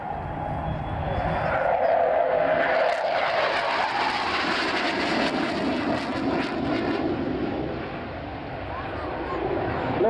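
A fixed-wing aircraft makes a low-speed pass with a touch of flap at the Shoreham Airshow, its steady engine drone loud and sustained across the clip while an announcer talks over the crowd noise.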